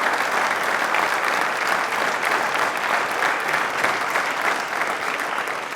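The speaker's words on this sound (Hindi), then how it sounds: "इस शायरी के लिए तालियां बजाओ भाई," Studio audience applauding on a televised quiz show, a steady, dense wash of many hands clapping at even loudness throughout, with no voices rising above it.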